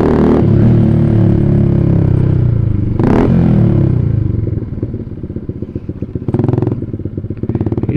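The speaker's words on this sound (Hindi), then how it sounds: "ये गाड़ी स्प्लेंडर।" A Hero Splendor motorcycle engine runs close by throughout, a steady low drone with a clattering burst near the middle and sharper blips toward the end.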